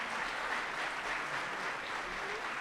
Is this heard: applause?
yes